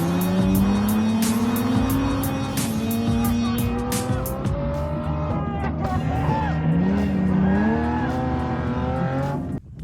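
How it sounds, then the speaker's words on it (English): Drift cars at a motorsport event, engines roaring and revving at high load with sustained tire squeal and skidding, loud and continuous; no bumper impact or fire is distinctly audible. "here's the two clips of his bumper coming off and Adam LZ's car going on fire for you"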